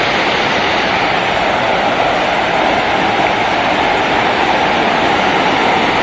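Maranum Falls, a hidden waterfall in the Philippines, roars with steady, loud rushing water close by, a dense unbroken wash of sound throughout with no voices audible.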